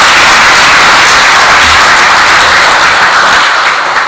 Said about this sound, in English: I thought you'd be clapping hands.